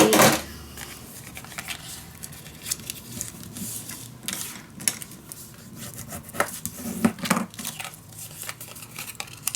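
Paper for a junk journal being cut and handled makes scattered crinkling, rubbing and snipping sounds in irregular bursts, close by.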